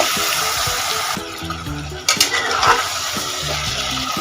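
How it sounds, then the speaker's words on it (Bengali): Mutton stirred with ginger-garlic paste and salt in a pan: scraping and stirring noises mixed with a light sizzle, running under steady background music, with no voices. "এই সব কিছু 3 থেকে 4 মিনিট নাড়াচাড়া করে নেব"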